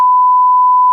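A single steady censor bleep, a pure tone held for just under a second, loud and alone, used to blank out a name in a French-language podcast.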